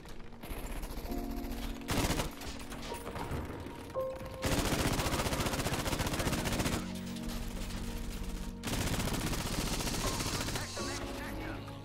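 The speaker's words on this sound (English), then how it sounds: "And then the AA gun." Anti-aircraft gun in an air-combat video game fires in long rapid bursts, loud and dense, broken by short pauses and mixed with other battle noise; a voice speaks briefly under it.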